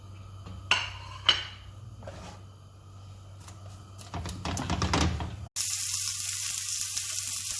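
Sautéed onions sizzling in a pan for a spicy mushroom curry, a few sharp utensil clacks, then a burst of louder frying as tomatoes drop in, settling into a bright steady hiss.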